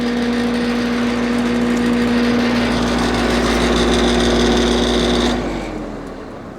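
Outdoor air conditioner unit with its fan motor running, a loud steady close hum and whir with a tonal drone that winds down near the end.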